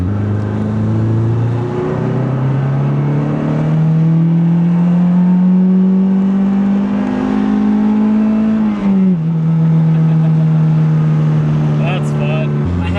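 A built Mazdaspeed3 engine pulls hard under turbo boost, its loud, steady drone climbing in pitch for about nine seconds, dipping briefly at a shift, then droning on under a voice.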